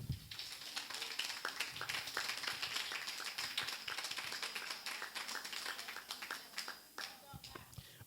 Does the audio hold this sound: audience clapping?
yes